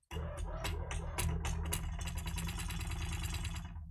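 Force feedback engine rumble from a Thrustmaster T150 Pro racing wheel during a video game, a steady low mechanical hum and buzz with rattly vibration that starts abruptly and holds loud for a few seconds, with no talking.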